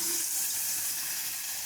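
Water pours into a pan of sautéed squash, a steady loud hiss and splash of liquid hitting the hot pan with no break across the moment and no voices.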